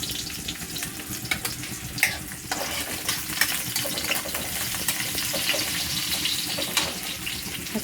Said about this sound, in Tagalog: At ayan na nga po, nagisa na ng bawang. Sinunod na nga po ang sibuyas.